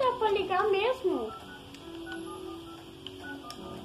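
Mobile phone dialing in a Sims-style life-simulation game mod: a quick run of rising and falling electronic beeps and tones, loud at first, then a steady faint hum that fades under quiet background sound.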